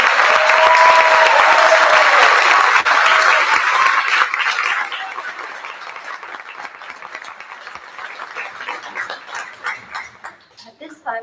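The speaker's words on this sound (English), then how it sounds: "Please join me in recognizing and honoring tonight's inductees with a round of applause" At a junior honor society induction ceremony, a large crowd applauds loudly for inductees, then thins out to scattered claps that trail off toward the end.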